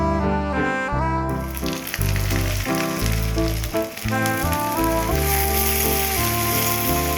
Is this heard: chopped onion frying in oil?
yes